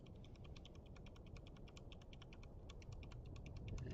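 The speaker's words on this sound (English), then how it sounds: "And I'm just clicking keys" Computer keyboard keys clatter in a quick, uneven stream of light clicks, close but quiet over a low rumbling background hum.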